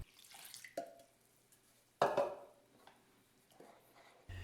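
Cool tap water, 14 ounces, poured into dry ingredients for no-knead honey oatmeal bread, heard as soft, close splashes and trickles in short bursts with quiet pauses between.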